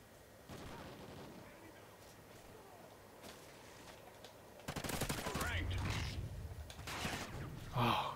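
Gunfire from the video game Call of Duty: Ghosts, with bursts of rapid shots over a continuous game background, growing louder and denser in the second half and ending in a sharp blast.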